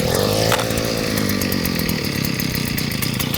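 T24C petrol engine starts with a rising pull and then runs at a loud, steady buzzing rev, close by with no talking.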